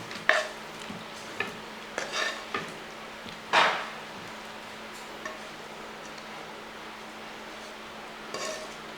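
Cooked potato fry being moved from the pan into a dish: a handful of scattered spoon scrapes and light clinks against metal, close by, over a quiet steady hum.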